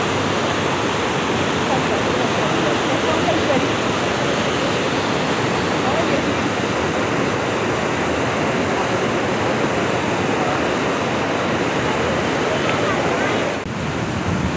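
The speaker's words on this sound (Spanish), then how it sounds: "Mira cómo se ve, cómo cae la cascada ahí." Salto de Eyipantla waterfall in Veracruz, Mexico, heard from the top where the water drops: a loud, steady, dense roar of falling water with no breaks, filling the whole stretch.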